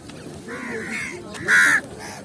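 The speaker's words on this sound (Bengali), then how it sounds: "পরন্ত বিকালে হঠাৎ লক্ষ্য করলাম অসংখ্য কাক একসাথে জড়ো হয়েছে।" Crows gathered in a large flock at a crow sanctuary in Kalitola call in the late afternoon. Overlapping nearby caws run throughout, topped by a loud, harsh burst near the end. No one speaks.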